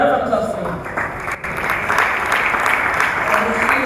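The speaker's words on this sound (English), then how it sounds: "A round of applause for him." Audience applause at a university international week morning session, a steady loud wash of clapping filling the whole stretch with crowd presence.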